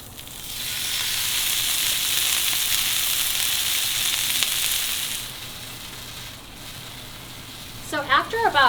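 Chateaubriand beef sears in a hot pan with a loud, even sizzle that holds for several seconds, then drops to a softer hiss before a voice begins speaking at the end.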